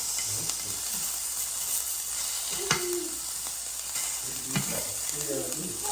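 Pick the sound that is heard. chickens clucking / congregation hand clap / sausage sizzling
sausage sizzling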